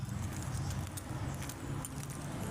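Keys jingle and clink in short bursts over a steady low rumble of nearby engines and road noise.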